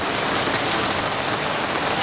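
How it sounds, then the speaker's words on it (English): Steady rain pours down nearby in Saigon, a dense, even hiss of drops hitting surfaces with no breaks. "Well, I want to walk, but it's raining."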